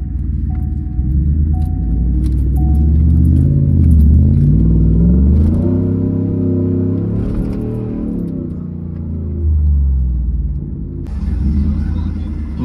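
A pickup truck on the road on the way to London, Ohio, giving a steady low engine rumble with gentle rises and falls in pitch as it drives, close and continuous, with a faint beep early on.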